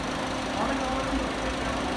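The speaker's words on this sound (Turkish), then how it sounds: "Klimayı kapattım, arabayı stop ettim. 3-4 dakika fan çalıştı" A Ford Courier van's engine idles with a steady mid-pitched hum and its cooling fan whirring continuously close by, the running noise holding even and unbroken.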